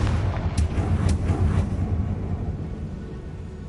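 A Confringo blasting spell explodes in Hogwarts Legacy as a loud, booming rumble. Several sharp bursts in the first two seconds give way to a sustained low roar that slowly fades.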